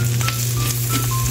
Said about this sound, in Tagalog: So, prito natin yung hotdog.